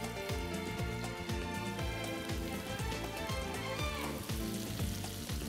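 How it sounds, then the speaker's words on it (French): Swordfish pieces sear in hot olive oil in a pan, giving a loud, dense, continuous sizzle with crackling spatter that holds steady throughout and has no voices over it. "Je vais chauffer un peu d'huile d'olive dans une poêle et je place dedans les morceaux de poisson pour les saisir"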